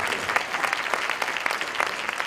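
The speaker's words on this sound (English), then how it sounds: "Y'all give a nice round of applause." An audience at a church concert breaks into a dense round of applause, steady and fairly close, with many hands clapping together and no voices over it.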